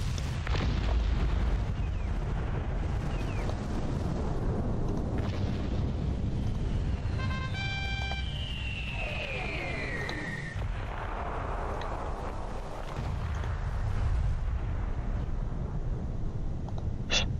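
Buildings crumble and blow apart in the real-time strategy game Cossacks: Back to War, a steady barrage of booms and rumbling blasts over dense battle noise, with a rising whistle near the middle.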